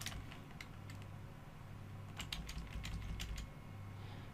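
Computer keyboard keys, including arrow keys, tapped in scattered single presses and then a quicker burst of clicks, faint and close over a steady low hum.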